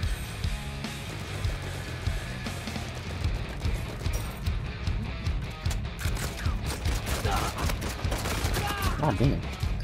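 Dense rapid gunfire from the video game Uncharted 4 rattles continuously, overlapping shots and bursts filling the whole stretch at close range with little letup.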